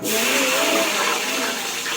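Mustard seeds and spices for a Kannada-style oggarane tempering dropped into hot oil, giving a loud continuous hiss and crackle that runs steadily for the whole moment without talk.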